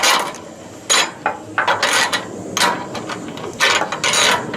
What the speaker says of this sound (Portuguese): Você vai usar uma chave de boca normal, vai depender aí do parafuso.